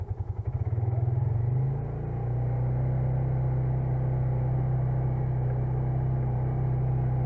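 An ATV engine running in a low gear: a steady, loud, close rumbling idle with a throbbing low drone that settles into an even hum after a brief pulsing start.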